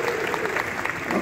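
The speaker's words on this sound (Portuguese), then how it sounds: "Salva de palmas lá do Gatão, matando o som lá" A live crowd at a Lagoinha church music session applauds the sound engineer, giving a steady wash of many hands clapping at moderate distance, with voices faintly mixed in.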